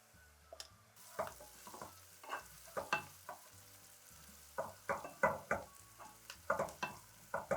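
Turmeric, coriander powder and cumin powder frying in a hot pan with amaranth stalks, sizzling in bursts as they are stirred, with scraping and knocking of the spoon against the pan close by.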